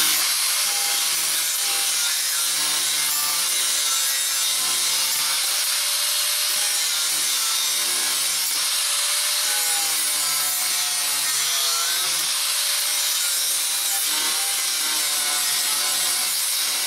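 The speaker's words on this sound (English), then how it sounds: "I'm grinding down into all the pitting and trying to get to the clean metal that's underneath" A power grinder works pitted rusty metal down to clean steel on a Mercedes G-wagen body, a continuous loud abrasive whine with wavering pitch as pressure shifts, running steadily throughout.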